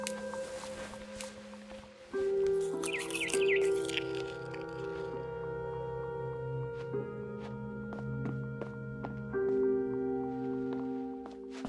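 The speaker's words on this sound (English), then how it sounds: "Then I heard chirping outside my window" A barn swallow chirps outside a window in the game What Remains of Edith Finch. Short, sharp chirps and ticks come in scattered bursts over tonal ambient music and a soft background hum.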